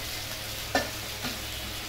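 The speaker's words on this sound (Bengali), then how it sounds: "মশলাটা তত সময় আমার একটু ভাজা হোক" Spice paste fries in hot oil in a pan for a koi fish tel jhal, a soft constant sizzle punctuated by two quick scraping stirs, close and quiet, without speech.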